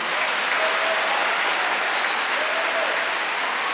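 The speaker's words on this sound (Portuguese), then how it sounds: "então aplauda mais forte" A church congregation at a Catholic sermon claps loudly, a thick, uniform roar of many hands that stays constant and intense without pause or voices over it.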